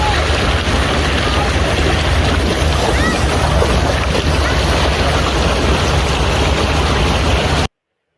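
River current rushing at Piedras Negras and Eagle Pass, a steady broadband wash of water blended with gusting wind across the microphone, continuous and loud for the whole stretch before cutting off abruptly.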